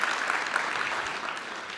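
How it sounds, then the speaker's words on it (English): Audience applause at a health care reform event, a steady dense patter of clapping filling the room throughout, fairly even and moderately loud. "I heard some beginning applause"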